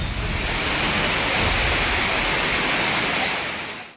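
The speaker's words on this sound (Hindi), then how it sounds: "अभी भी बारिश गिर रहा है" Heavy continuous rain and a torrential flood stream roar as a dense, loud, unbroken wash of noise close by, fading only at the very end.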